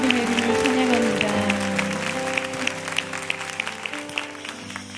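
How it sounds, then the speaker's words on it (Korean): Church congregation applauding together during a New Year's Eve worship service, a dense, steady clapping that fades gradually near the end, with some voices mixed in. "우리 감사의 박수로 영광 올려드렸으면 좋겠습니다"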